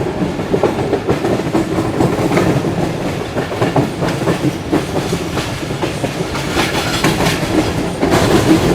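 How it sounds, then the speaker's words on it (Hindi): Shah Latif Express 152 Down, the Mirpur Khas to Karachi train, rolls steadily close by with loud continuous clickety-clack of wheels on rail joints and rumbling carriages throughout. "और ये अप्रोच बना रही है शाह लतीफ़ एक्सप्रेस 152 डाउन"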